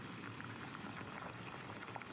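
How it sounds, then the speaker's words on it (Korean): Water with baking soda boils in a pot, a faint steady bubbling and rumbling at a quiet, even level. "끓는 베이킹소다물에 살짝 담궈 물기를 완전히 말려줍니다."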